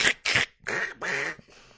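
A human voice imitates a duck's quack, the sound of a novelty duck spray, with four or five close, nasal, buzzy bursts that fade toward the end, heard with no other talk.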